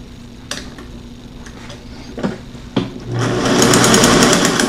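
Sewing machine stitching a hem into hammock fabric, a few sharp clicks and thumps before the motor starts up loud and steady with a rapid mechanical chatter, close by.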